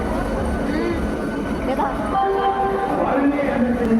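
A local train rumbles on rails under a loud, steady drone of station noise on a journey towards Kharagpur, with people talking nearby throughout.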